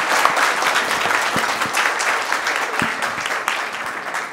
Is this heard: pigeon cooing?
no